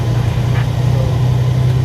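A Peterbilt bobtail truck's engine idles in a steady, close, low rumble with a constant drone throughout.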